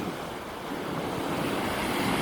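Surf rolling onto a beach at sunset, a steady, close, full wash of breaking waves with wind rumbling across the microphone, no voices.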